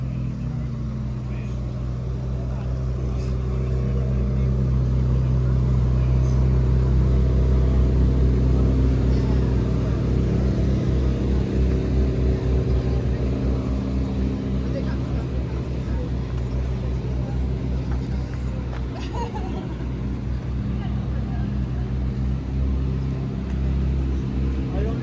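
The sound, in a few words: supercar engine driving, Ferrari or Lamborghini in Monaco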